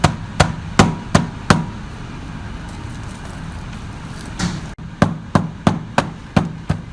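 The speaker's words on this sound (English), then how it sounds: "we're putting some more sand in here with the sand and clay and packing it in tight." Sand-and-clay mix rammed tight into a metal-casting mold around a gear pattern, heard as a run of sharp, evenly spaced thumps and knocks in two bursts separated by a quieter stretch.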